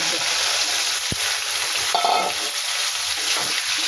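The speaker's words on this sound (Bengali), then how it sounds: "এই যে আলু ভাজা চলছে" Steady sizzling of potatoes frying in hot oil, with a brief clink of a utensil partway through.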